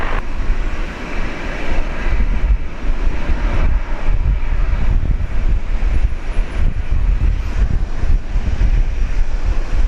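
A China Airlines Airbus A380 arriving from Taipei lands on runway 01 left at Brisbane airport, giving a steady, loud broadband engine roar with wind buffeting that holds for the full length without a break.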